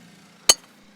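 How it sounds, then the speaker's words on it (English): A golf club strikes a ball on a short chip-style drill shot, one sharp crisp click standing alone against quiet outdoor background. "Get the golf club in your hands, and do the drill."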